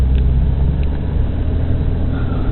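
Steady low rumble of a Mercedes car driving and turning a corner, the engine and road noise heard from inside the cabin, continuous and fairly loud.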